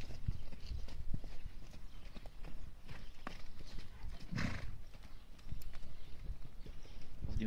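A horse's hooves clop steadily on dusty ground during a riding lesson, a close, irregular walking rhythm with faint background noise and a brief snort partway through.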